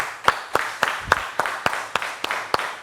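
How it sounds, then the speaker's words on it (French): Sparse, sharp hand claps at a festive family reconciliation gathering, about a dozen separate near slaps spaced unevenly over low background murmur rather than a full ovation. "Ça s'applaudit"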